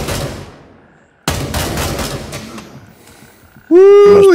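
Gunfire in the military shooter Gray Zone Warfare: a long rumbling tail fades out, then a sharp, loud burst of shots rings and decays, followed by a strong sustained tonal blare.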